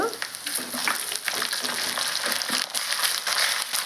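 Ginger garlic paste sizzles in a frying pan with browned onion pieces, a steady, dense crackle of hot oil running loudly the whole time with occasional stirring scrapes.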